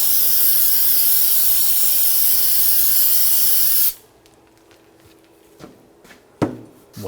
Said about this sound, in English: Use a little brake parts cleaner.